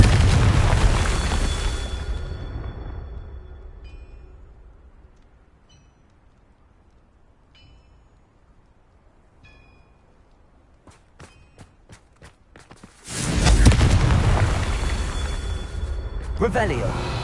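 Confringo fire-spell explosions in the video game Hogwarts Legacy burst loudly at the start and again near the end, with a quieter stretch of scattered crackles and sharp pops between.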